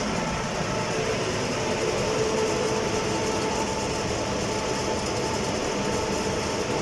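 A repaired air handling unit fan blower, an old unit fitted with new bearings, runs with a steady, dense whooshing roar that holds constant throughout, alone and without speech.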